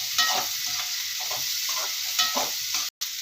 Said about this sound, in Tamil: நல்லா வதக்கிடணும் வெங்காயத்தை